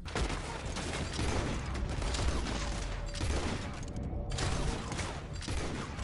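Continuous rapid gunfire from Red Dead Redemption II Online crackles throughout, dense and loud, with a brief pause in the bright crack near the end.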